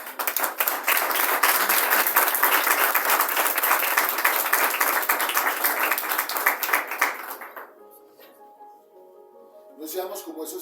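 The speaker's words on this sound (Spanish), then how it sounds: "Den un aplauso al Señor" A congregation in church claps loudly and steadily for several seconds, a dense wash of applause that fades out toward the end before a voice speaks over a quieter tail.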